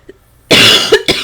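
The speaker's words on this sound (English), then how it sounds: "Excuse the coughing." A person coughs close up, a short burst of two or three harsh, loud coughs after a moment of near silence, with no speech.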